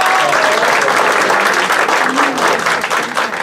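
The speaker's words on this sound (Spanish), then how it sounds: "Recibamos con un fuerte aplauso" A ceremony audience breaks into loud, sustained applause welcoming an honoured guest, a thick continuous roar of clapping close and full throughout, with faint voices mixed in.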